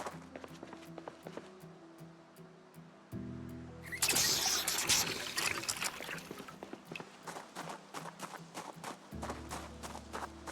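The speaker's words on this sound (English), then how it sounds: "Pop in here and fill up our water." Running water pours in a rushing stream as a water container is filled in the zombie survival game Project Zomboid, swelling loudly for a few seconds and then easing off, with soft footsteps and game ambience around it.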